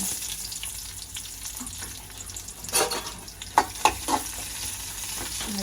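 Cumin seeds fry in melted butter in a pan, giving a steady close sizzle with a few sharp crackles and pops from stirring.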